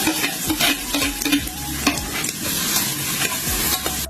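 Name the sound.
onion and garlic sautéing in a pan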